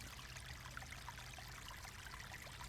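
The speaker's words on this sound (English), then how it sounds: "So we can fill the toilet." Water trickles steadily into a toilet in a zombie survival video game, a quiet, continuous pouring stream with no voices.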